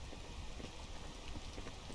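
Steady rain falls in a video game, a dense, even hiss of drops that fills the whole stretch with no other sound standing out.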